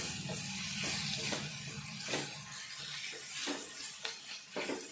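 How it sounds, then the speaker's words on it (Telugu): Ginger garlic paste fries in a pan with salt, a continuous close hiss of sizzling oil broken by regular soft scrapes and knocks as it is stirred. "అంతా కూడా కొంచెం వేగదాకా వేయించుకుందాం."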